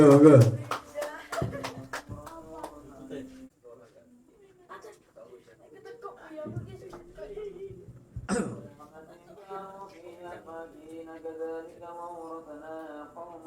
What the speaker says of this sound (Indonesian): Tepuk tangan dulu buat Mas Ayes, monggo.